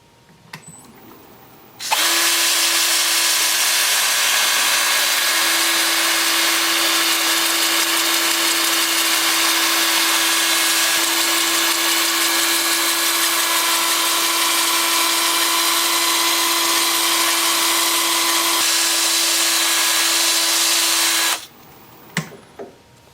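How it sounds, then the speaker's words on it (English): A wood lathe spins forward at 350 RPM while a turned piece is sanded, a loud steady motor whine that starts abruptly, holds constant for nearly twenty seconds, then cuts off. "Starting at 80 grit, working up through 400. The lathe is going to be spinning forward at 350 RPM."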